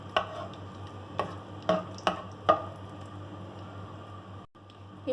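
Cardamom pods stirred in warm ghee over a low flame while making potato halwa: a soft, steady sizzle with about five distinct scraping clicks of a spoon against the pan, fairly close and quiet.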